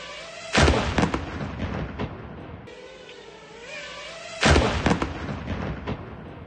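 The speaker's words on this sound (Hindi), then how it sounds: "उनके ऊपर बारूद से लदा ड्रोन गिरा तो जोरदार धमाका हुआ" An explosive-laden kamikaze drone detonates on a shopkeeper in Kherson, giving two sharp, loud blasts a few seconds apart, each followed by rumbling decay and faint street noise.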